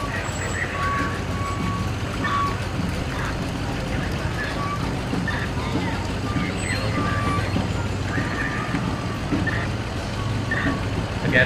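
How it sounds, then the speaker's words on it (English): The Arlington Fire and Rescue brush truck, number 78, rolls past in the Bennington Battle Day Parade, its engine rumbling steadily under repeated beeps amid outdoor crowd noise and an announcer's voice. "Arlington Fire and Rescue. Their brush truck, number 78."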